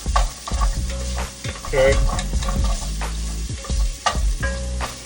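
Onions sweat in a hot pan while being stirred, a loud steady sizzle broken by repeated scraping strokes, and a voice speaks briefly at the start.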